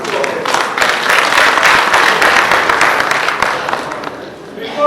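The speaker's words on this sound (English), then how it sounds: "an applause for the two of them." An audience claps for two people at a national anthem and values sensitization event, a dense, close burst of applause lasting several seconds before thinning out near the end.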